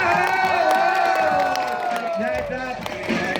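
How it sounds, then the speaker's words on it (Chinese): An audience claps and cheers after a final bike trick, a loud wash of applause and whoops under a voice speaking over the crowd. "那掌声给小胖鼓励一下"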